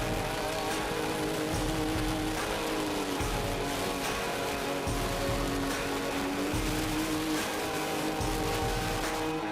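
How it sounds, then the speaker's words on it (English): Torrential rain pounds a car on a highway, a dense, steady roar of drops and wet road noise that stays loud and unbroken with no voices. "a torrential downpour began out of the blue"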